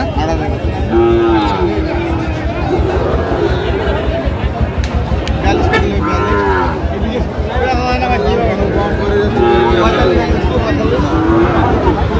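Many cattle, including Sahiwal bulls, moo loudly and repeatedly, some near and some farther off, over a constant hubbub of people chattering and haggling over prices in a crowded cattle market in Phulbari.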